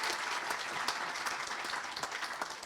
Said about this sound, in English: a round of applause for Ruth from Hadley Works and Silverpreneurs